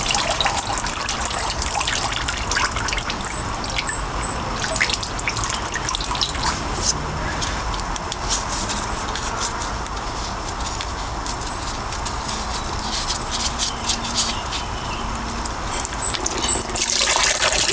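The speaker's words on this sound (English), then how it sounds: "So we're probably going to start emptying the diesel." Diesel draining from a Renault Megane mk3 into a bucket, a steady close trickle and drip of liquid running continuously with no voices.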